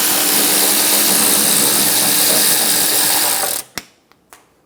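A hand ratchet spins steadily and loudly on a 10mm bolt at the bottom of a 2014-2018 Chevrolet Silverado 1500 windshield washer reservoir, then stops, followed by a couple of sharp clicks.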